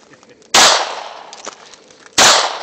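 Two sharp, loud handgun shots from a Ruger .40 caliber pistol, spaced about a second and a half apart, each with a bright crack and quick decay outdoors.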